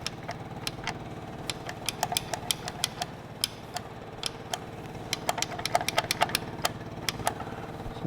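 Flathead V8 engine on a homemade run stand at its first start, idling with a steady low rumble and irregular sharp ticking clatter on top, close and continuous.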